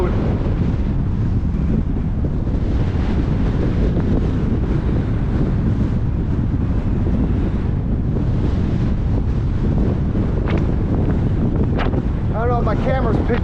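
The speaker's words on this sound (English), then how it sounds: "I don't know if my camera's picking up the wind or not, the sound of it, but it's starting to pick up again." Steady, heavy wind buffeting the microphone in a continuous roar while riding a bike along a hard-packed limestone gravel road near Lake Apopka, loud and unbroken for the whole stretch.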